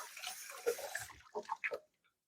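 Tap water runs and splashes while sticky hands are washed at a kitchen sink, a short, close burst of rushing and splattering that breaks into a few splashes before stopping.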